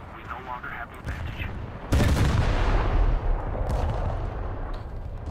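Cruiser guns in a naval video game fire heavy booming salvos, with one loud blast that rolls on into a long rumbling tail, while someone talks over the action.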